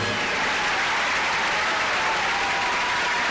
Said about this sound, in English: just basking in the applause